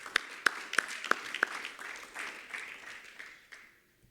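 An audience at a trade union conference on African sovereign debt claps: a few crisp, separate claps open, then looser scattered clapping spreads and fades to silence.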